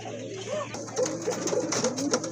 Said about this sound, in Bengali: আর এক জোড়া কবুতর দেখেন আপনারা, সুপার মিলি কবুতর